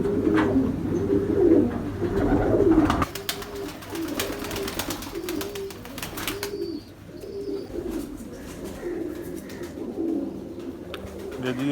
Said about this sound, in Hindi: ये जी ये दूसरा कबूतर